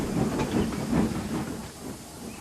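A steam train arriving at a big station at dusk, giving off a soft rumbling hiss with faint clanking that fades lower toward the end, then a brief high whistle-like tone.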